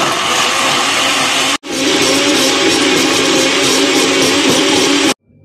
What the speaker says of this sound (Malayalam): മിക്സിയിലിട്ട് നടിച്ചെടുക്കാം